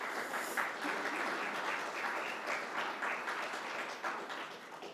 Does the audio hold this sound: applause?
yes